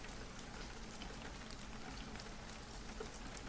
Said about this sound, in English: I noticed that last time the rain was like really, really, really soft